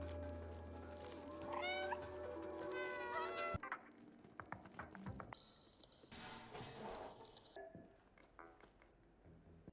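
A cat meows repeatedly in the video game Stray, a series of close, rising calls in the first few seconds followed by scattered thumps and softer game sounds.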